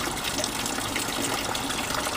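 Water gushes steadily from a pump into a water barrel, a continuous rushing fill sound that stays close and even throughout, with the pump running beneath it and no voices.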